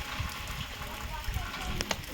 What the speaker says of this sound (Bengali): বৃষ্টি পড়ছে, বৃষ্টির মধ্যে ভিজে যাচ্ছে